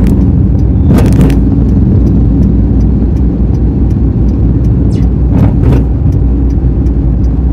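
Car engine in a driving lesson, held at gentle, moderate revs rather than pushed hard: a steady mid-pitched hum close by, with a couple of brief louder swells and no talking.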